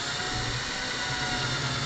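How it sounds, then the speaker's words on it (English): A power drill whirs continuously and loudly while enlarging a hole in a flexible 3D printer build plate, a steady grinding whine with no pauses. "we just have this one to drill out larger"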